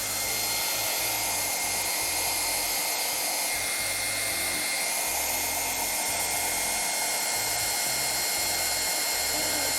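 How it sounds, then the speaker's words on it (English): A handheld hair dryer blows continuously while film is being developed, a loud, steady whooshing roar that holds without a break for the whole stretch, close to the microphone. "I also used this hair dryer when I was in college"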